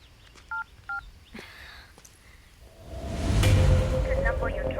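Phone keypad tones as a number is dialled in a scene from the film Betting Raja: two short, clear beeps, followed by a rising whooshing noise.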